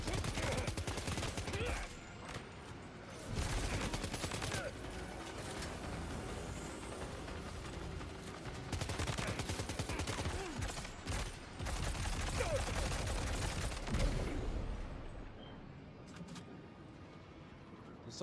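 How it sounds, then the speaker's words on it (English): Rapid bursts of gunfire in a video game, with dense volleys and pauses across the stretch, loud and continuous alongside game noise. "Did someone shoot me from behind?"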